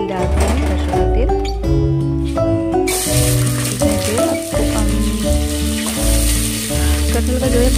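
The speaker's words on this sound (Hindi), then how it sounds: "कुकर में मैं जो है कटहल को फ्राई करूँगी" Jackfruit pieces fry in hot mustard oil inside a pressure cooker, a steady sizzle rising sharply after a few seconds and continuing, heard under constant background music.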